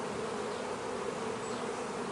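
Honey bees buzz steadily and closely at an opened hive with no queen, a dense, continuous drone holding even loudness throughout with no voices.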